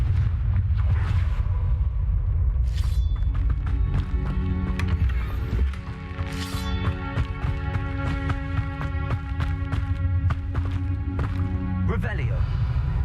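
The Confringo fire spell in Hogwarts Legacy lets off booming, rumbling explosive bursts, loud and close, over a steady layer of game music and tonal effects.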